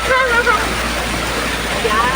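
Water streams steadily from a spring-fed fountain, a continuous splashing rush close by, with people talking over it.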